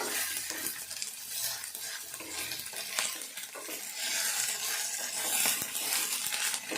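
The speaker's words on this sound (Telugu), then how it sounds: "అల్లం వెల్లుల్లి పేస్ట్ ఫస్ట్ వేస్తే అంత గిన్నె కడుపు కడుపుకుంటుంది ఇట్లా కూడా అందుకే తర్వాత వేసుకోవాలి" Ginger-garlic paste frying with dried fish curry in a pot: a continuous loud, hissing sizzle with occasional stirring scrapes and clicks throughout.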